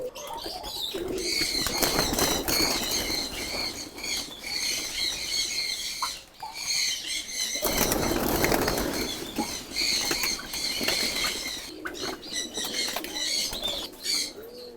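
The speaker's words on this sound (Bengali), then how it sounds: "তা আজকে আমাদের হচ্ছে এই কবুতরগুলো ছাড়ার পালা।" Young Giribaz pigeons burst out of a cage in several rapid rounds of loud wing flapping, with soft cooing and scuffling between the flurries, and no talking.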